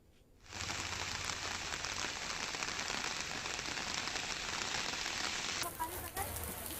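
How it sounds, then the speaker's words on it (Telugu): Heavy rain falls steadily across Hyderabad, a dense, loud and even hiss that sets in sharply and holds without a break. "నగర వ్యాప్తంగా వాన కురుస్తోంది"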